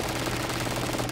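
Gunfire from the hip in Call of Duty: a short, rapid rattle of automatic shots, steady and close, with no gaps or talk.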